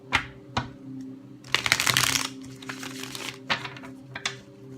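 Cards are riffled in one dense burst in the middle of the clip, with light taps and clicks before and after. Close by and fairly quiet, with no voices.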